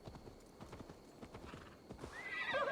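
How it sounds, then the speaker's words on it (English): Rapid hoof clip-clops from horses in a video game, fairly faint, followed by a whinny near the end over a soft background hum. "I guess horses sounding loud."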